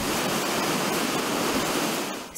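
Water and tailings rush through a plant's hydrotransport system, a dense, steady roaring wash of noise with no pauses.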